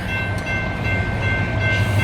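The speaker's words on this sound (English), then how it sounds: "We got a train coming." A train nears a level crossing where the gates have gone down. A steady low rumble of rail cars runs under a sustained horn tone, fairly close, with no talking.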